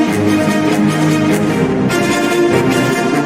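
Full, loud orchestral music with sustained brass chords swelling over a dense ensemble, continuous throughout with no pauses.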